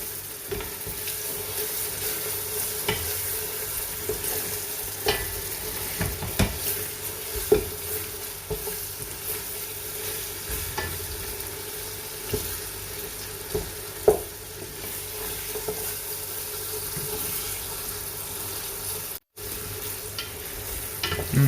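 Masala spices for beef pulao fry in a pan with a steady, low sizzle throughout. Occasional stirring scrapes and clicks come through without any talk.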